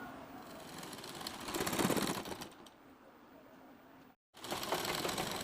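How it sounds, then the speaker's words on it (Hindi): Fabric being stitched on a sewing machine, a folded sleeve piece fed under the needle, with a steady mechanical whir that swells midway, stops abruptly for a moment, then resumes. "तो चलिए सिलाई लगा लेते हैं।"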